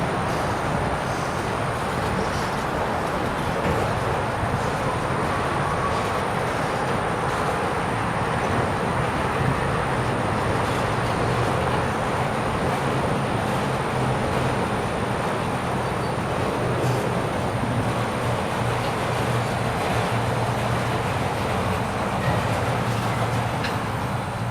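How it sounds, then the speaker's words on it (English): Long freight train Q442 rolls steadily past beside the Tampa Bypass Canal, its rear cars producing a constant, loud broadband rumble with faint wheel clatter and no pauses throughout. "Q442 is finally done switching as its back end passes the Tampa Bypass Canal"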